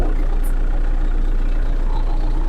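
An MTZ-82.1 tractor's diesel engine, run after standing a long time with 2384 engine hours, idles in a loud, steady, low rumble close by with no break.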